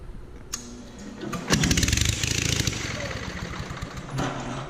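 A new 5 kilowatt generator engine, primed with starting fluid, cranks briefly, then catches and runs with a loud, rapid chugging beat that settles into a steady uneven idle close by.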